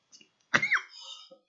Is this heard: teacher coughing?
yes